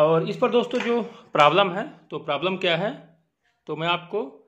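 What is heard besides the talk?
No everyday noises stand out.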